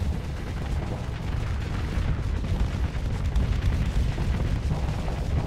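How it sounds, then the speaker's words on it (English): Arbalest cannons firing in the space combat game Starsector, a dense, continuous rumble of booming shots and bursts layered together, loud and sustained with no voices. "Little arbalest cannons."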